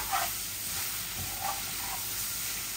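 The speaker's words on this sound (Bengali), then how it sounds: "এগুলো আস্তে আস্তে ভুনা ভুনা হোক" Cooked greens and onions slowly frying in a pan, a soft continuous sizzle and hiss with faint stirring, heard close and alone.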